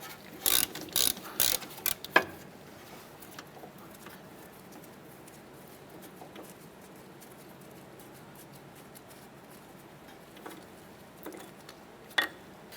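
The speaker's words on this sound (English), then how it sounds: "Using a 10mm socket, go ahead and remove our ABS brake line bracket bolt here." A 10mm socket on a ratchet works loose the ABS brake line bracket bolt on a 2008-2012 Honda Accord, giving a quick burst of sharp close clicks at the start, then quiet with a few faint later ticks.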